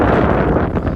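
Wind buffets the microphone on an exposed hilltop in Edinburgh, a loud, continuous low rush with rustling, lasting about a second and without talk.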